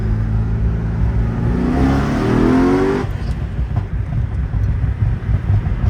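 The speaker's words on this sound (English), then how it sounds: "first gear rip." A Corvette Z06 engine revs hard in first gear, rising in pitch for a few seconds of strong acceleration before the note drops back to a lower rumble.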